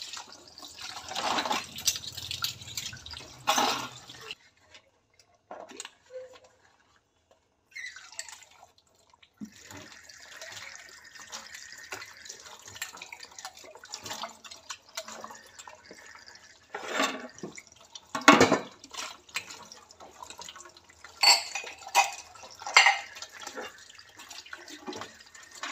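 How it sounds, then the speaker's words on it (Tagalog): Dishes being washed by hand in the morning after the water supply ran out overnight, with water dripping and trickling from a tap in scattered bursts, some louder splashes and clinks, and quiet gaps between, no talking. "So, makuhugas muna ako ng pinggan guys."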